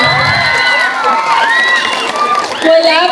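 A pageant crowd cheers and shouts loudly and continuously, high excited voices and whoops overlapping throughout with little pause.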